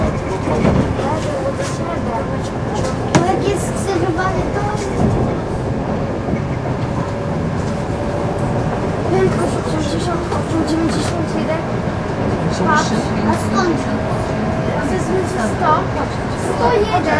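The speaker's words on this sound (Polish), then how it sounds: "na niecałym kilometrze pociąg rozpędził się do takiej prędkości" An ED74 train accelerates steadily with continuous rumbling and clattering wheels, loud and close throughout, with voices talking over the noise inside the carriage.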